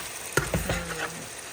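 Holy basil leaves frying in a pan for a stored chili-basil paste, a soft sizzle with a few sharp crackles and stirring clinks close by, no talking.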